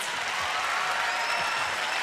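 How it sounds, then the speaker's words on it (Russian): An audience applauds a stage performance act with a steady, dense wash of clapping. It sounds somewhat distant and moderately quiet, with no pauses throughout. "Сергей, аплодисменты и отметка 9."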